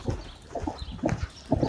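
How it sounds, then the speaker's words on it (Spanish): Horse hooves clip-clop in a video game, a few soft irregular thuds in quick succession, fairly faint and close, with no talk over them. "se te fijaste cómo bajó con soltura el caballo, mi Kikiras"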